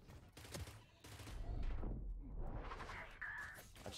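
A sniper shot sounds in a video game, one sharp crack followed by a long sweeping echo and a faint mechanical whine, all fairly quiet.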